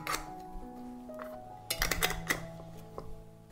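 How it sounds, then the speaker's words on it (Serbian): Glass jars being closed with new, clean metal lids, several close clinks and light taps with small ringing tones spread through the few seconds, no talking. "I tegle zatvaram sa čistim i novim poklopcima."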